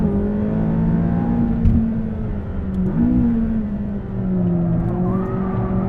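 A mid-engine McLaren 570S hums and rises in pitch as it accelerates steadily on a race track, a continuous close engine drone with shifting revs and no talking.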